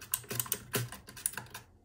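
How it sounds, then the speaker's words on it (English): Typing on a mechanical gaming keyboard, a close, rapid flurry of clacky keystrokes for under two seconds, heard alone. "Now this is the new keyboard I got. It's a mechanical gaming keyboard."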